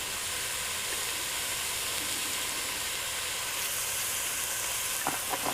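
Chili ingredients for a TexMex chili with chorizo fry in olive oil in a pan, giving a steady, even sizzle that runs throughout, with a few small crackles and pops near the end.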